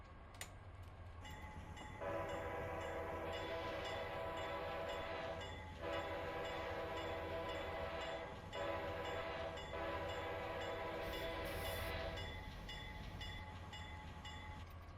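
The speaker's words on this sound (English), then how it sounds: "we are going to be going through San Diego here, so we have a lot of grade crossings. So I'm going to shut up and basically let the train blow through the crossings" A Dash 8 locomotive on the Pacific Surfliner through San Diego in Train Simulator 2021 sounds its horn in long repeated blasts at grade crossings, over a steady engine rumble and wheel noise.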